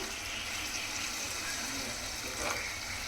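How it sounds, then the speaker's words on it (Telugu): A glass of water is poured into a pan of frying prawns with ridge gourd, giving a steady, even gushing hiss that holds for about three seconds at moderate volume. "1 గ్లాస్ వాటర్ వేసుకుంటున్నాను"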